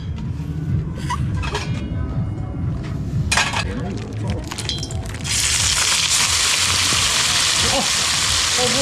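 Aromatics dropped into plenty of hot oil in a wok for a spicy mala xiangguo burst into a loud, steady sizzle partway through, after a stretch of clinks and voices chatting nearby.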